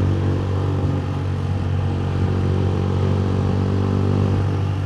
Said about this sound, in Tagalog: Ingay ng motor pag binobomba.